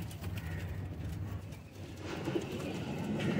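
Kasuri pigeons cooing softly in a loft of breeder birds, low murmuring coos that recur through the stretch, fairly close but subdued, with some faint background shuffling.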